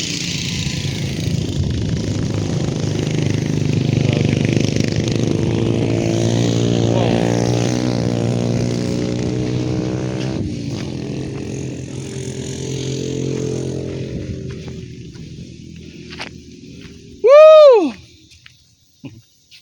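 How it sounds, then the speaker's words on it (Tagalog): Motorcycles pass along a rural road. One engine swells with rising revs and then fades, a second machine follows, and a short, loud, sweeping tone cuts in near the end. "may mga motor naman dyan."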